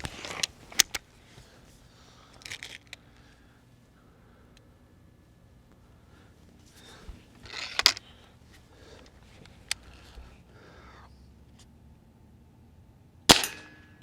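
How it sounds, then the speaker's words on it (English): Walther Parrus .22 air rifle firing, with sharp isolated cracks and mechanical clicks spread across a quiet stretch, a couple of stronger shots standing out, no talk. "you're going to get a little bit of noise with this particular rifle because of the mechanics"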